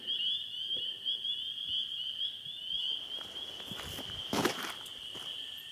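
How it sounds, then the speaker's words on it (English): A steady high chorus of spring peepers in Michigan with a few lower clucking, quacking wood frog calls and some rustling close by, one louder burst near the end. "You can also hear a couple of wood frogs."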